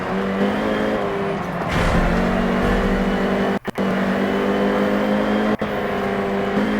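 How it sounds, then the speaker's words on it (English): A loud, steady race car engine in a video game drones continuously at high revs, with brief dropouts during gear shifts and no talking. "Listen to that engine sound"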